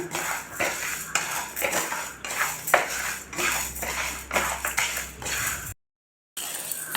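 Cashews roasting in a metal pan, mostly heard as a spoon or spatula clinking and scraping against the pan in a quick irregular rhythm, close up, with a brief silent gap near the end and no voices.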